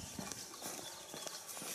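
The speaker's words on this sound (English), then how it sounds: "See the horses out now" Horses' hooves clip-clop steadily along a park hiking trail, a series of close, distinct hoof strikes in an uneven walking rhythm over faint outdoor background noise.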